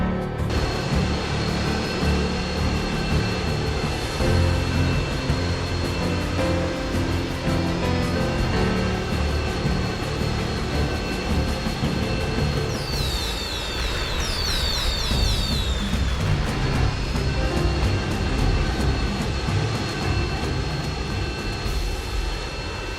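Police airplanes and fighter jets roaring overhead in the video game Mad City, a steady loud engine drone with a whooshing pass partway through.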